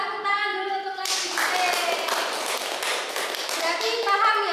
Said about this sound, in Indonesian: Tepuk tangan dulu untuk lagi.